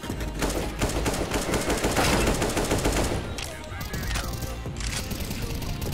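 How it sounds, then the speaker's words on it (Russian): Gunfire in CS:GO on the Dust 2 map: dense rapid automatic bursts fill the first half, then thin out to scattered shots, with faint speech underneath. "Просто вслепую все стреляют."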